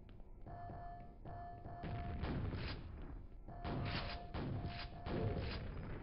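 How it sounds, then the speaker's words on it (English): Repeated heavy shotgun blasts and thuds from a double-barrel shotgun in the shooter game Quake, in two dense bursts over a steady game soundscape with tonal hum, no talk. "Oh my god, so many shots."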